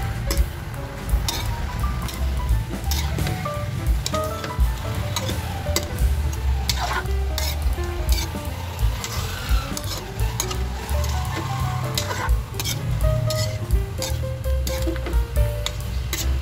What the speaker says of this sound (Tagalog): Kaya isunod na rin natin guys yung ating gata. Haluin ulit natin guys.